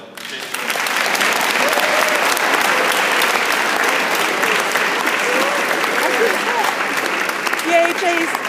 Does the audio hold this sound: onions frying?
no